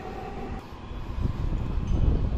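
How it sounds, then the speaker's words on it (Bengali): A metro train rumbles along an elevated line near Uttara Centre station in Dhaka, a low steady roar that swells slightly as it passes, with some wind noise. "মেট্রো লাইনের উপর দিয়ে ট্রেন চলে যাচ্ছে মতিঝিল অভিমুখে"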